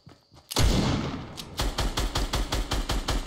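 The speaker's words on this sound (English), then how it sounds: "just trying to shoot at me, dude." Video game gunfire: a loud burst of shots, then a rapid, steady automatic-fire rattle that continues close and prominent to the end.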